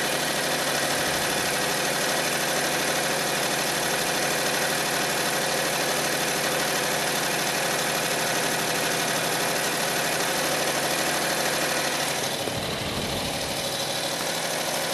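A Predator 670cc small engine runs steadily at idle, firing on both cylinders, a loud continuous mid-pitched drone with constant vibration, briefly dipping near the end.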